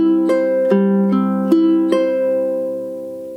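Fingerpicked ukulele arpeggio pattern in low G tuning, five plucked chord notes ringing out one after another at a steady pace, the last left to sustain and fade, played alone and close.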